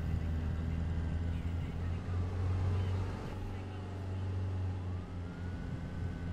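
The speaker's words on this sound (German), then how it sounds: "Ich hab da diese krasse Sirene." A police car siren in the video game ARMA 3 wails faintly, its rising and falling tone sitting under a loud low engine drone.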